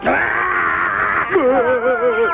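A cartoon character from the French animated series Le Petit Castor screaming in fright, a loud, sustained high shriek that breaks into a wavering, wailing cry toward the end.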